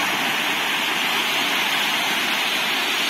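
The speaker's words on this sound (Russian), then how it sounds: "А волн было поменьше, а вот сейчас накат усилился." Sea surf rolling onto a clean sandy beach at Anapa on the Black Sea in summer, a steady, loud broadband wash of breaking waves that continues without pause, with no voices.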